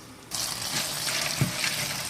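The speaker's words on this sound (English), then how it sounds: "I'm rinsing in cold water and picking the rest of the bigger chunks out" A tap switches on and cold water runs steadily into a sink, splashing over pumpkin seeds being rinsed, close and continuous.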